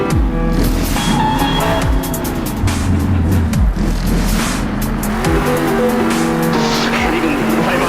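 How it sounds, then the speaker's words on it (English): Monster truck engine in a video game freestyle event, revving loud and continuously with rising and falling pitch, plus tire squeals and crowd-like noise and a commentator's voice over it. "He floors that truck, gets some huge air."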